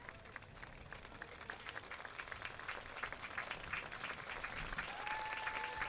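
Stadium crowd at a soccer match applauding a hat-trick scorer as he is substituted off, a steady, dense wash of clapping that builds slightly louder over several seconds, with a faint whistle-like tone near the end.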